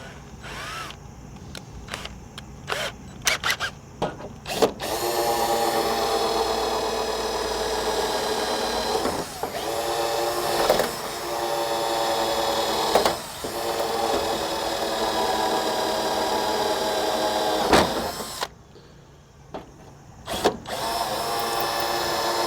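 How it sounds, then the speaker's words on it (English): A power drill grinds steadily through stainless steel for a long stretch, high-pitched and strained, with brief stops and restarts at the beginning and end. "stainless really doesn't like to drill."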